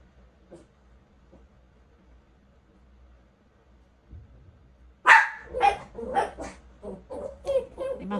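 A dog barks repeatedly and loudly at close range after several seconds of near silence, the barks coming in quick bursts, apparently at trash collection outside.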